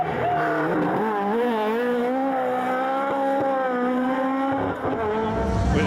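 A battered Toyota Corolla rally car is driven hard around bends on a modified rally stage, its engine a loud, wavering whine that rises and falls with each gear and corner, with faint crowd noise behind.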